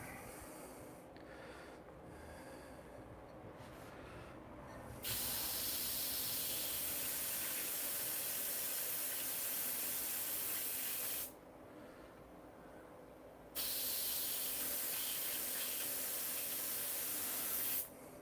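An airbrush sprays cleaning fluid in two long, steady bursts of loud, even hiss, each several seconds, with a quieter hiss between them and no voices.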